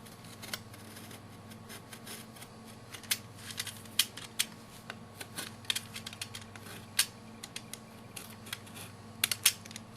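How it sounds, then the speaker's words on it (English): A craft blade cuts window openings in wallpaper for a miniature building, making faint, irregular clicks and snips close by over a quiet room hum. "now I need to very carefully cut my windows"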